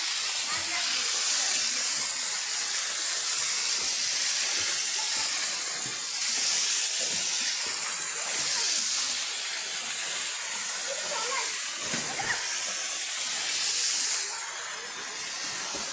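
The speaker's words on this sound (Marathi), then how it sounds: "हे इथं वरतून उंच असं पाणी पडतंय" A waterfall dropping from a height near a small temple, a loud, steady broadband rush of falling water throughout, with faint voices at times.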